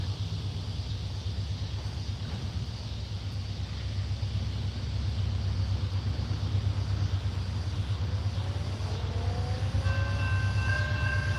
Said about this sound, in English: he's gonna be blowing that K5 LA horn